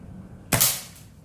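One crisp, close crack comes from a PCP mini AWM air rifle with a 30 cm barrel. A short ringing tail follows from the metal silhouette target, and nothing else is heard.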